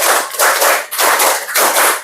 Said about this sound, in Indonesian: Tepuk 4 2 kali.